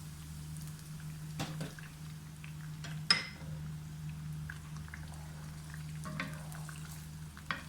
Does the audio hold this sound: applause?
no